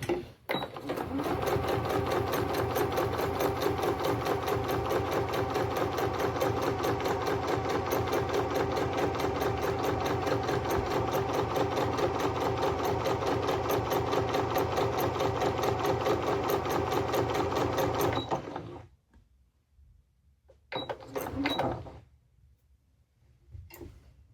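A sewing machine stitching a zip pocket runs in one loud, even whirring stretch of rapid needle ticks for about eighteen seconds. It stops, then gives a brief second burst of stitching near the end.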